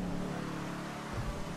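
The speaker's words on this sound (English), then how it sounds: "this car handles way better with these tires" A car in Grand Theft Auto V drives on new tires, its mid-pitched engine humming and revving steadily, close up and moderately loud, with no voices.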